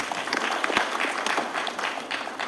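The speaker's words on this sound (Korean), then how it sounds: "여러분들 박수 한번 보내주십시오" Audience applause at an entrepreneurship camp event, a brief burst of many hands clapping steadily in a hall, moderately loud and dense, with faint crowd murmur underneath.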